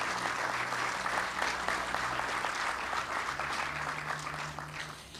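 An outdoor crowd at the Treadmark ribbon cutting claps steadily and fairly faintly. The applause holds for several seconds over a low hum and slowly tapers off.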